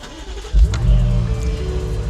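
A BMW M8 Competition sports car starts up close by with a loud burst of ignition, settling into a deep, steady idle rumble that continues to the end.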